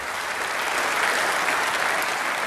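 Dense, steady applause from a large party conference audience fills the hall, loud and continuous throughout with no talking over it.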